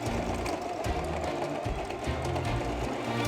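A sewing machine runs steadily through a stitching pass on a tiny miniature pillow, a continuous close mechanical whir with faint rattling, heard alone without talk.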